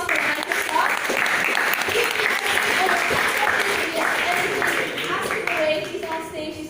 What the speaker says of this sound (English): Give him a big round of applause for Microsoft.